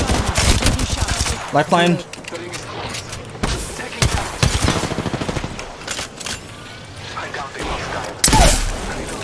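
Rapid bursts of gunfire from the video game Apex Legends crackle loudly and repeatedly, with short pauses between volleys, while a voice speaks over the shooting.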